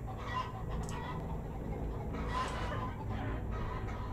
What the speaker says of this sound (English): Wieso sind hier Chicken?